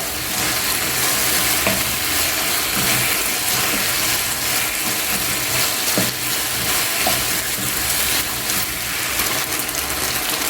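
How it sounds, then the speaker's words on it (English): Grated garlic, three cloves, stirred into a sizzling chicken stir fry in a pan, with a loud continuous hiss and steady scraping strokes of the spatula throughout. "Then I'm going to add my grated garlic. This is 3 cloves of garlic. Stir that as well."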